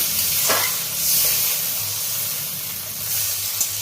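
Water poured into a pan of spice paste fried in oil for a Bengali katla fish curry, giving a close, steady sizzle and hiss with a burst of steam around the first second and faint stirring, no talk.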